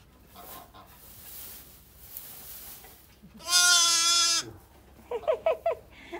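A farm sheep that has just given birth to twin lambs lets out one loud, close, sustained bleat midway, followed by a few short, fainter calls.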